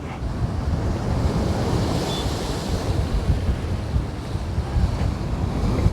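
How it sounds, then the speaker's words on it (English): Steady wind blows along a seaside walkway in Jeddah, Saudi Arabia, with gusty buffeting on the microphone over a constant broadband rush like surf, no voices. "It's a little cloudy, it's pretty windy."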